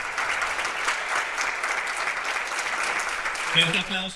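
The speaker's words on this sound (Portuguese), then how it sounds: "Um aplauso para a nossa irmã Maria Luísa" A church congregation applauds a sister during a Bible study gathering, dense sustained clapping filling the room from start to finish, with a voice briefly emerging near the end.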